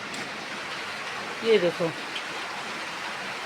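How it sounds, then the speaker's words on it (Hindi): Steady rain falls on a hill-town road in winter, a continuous wash of hiss with running water on the wet street below, with brief talk in the middle. "अभी तक बारिश देखो लगातार चल रही है"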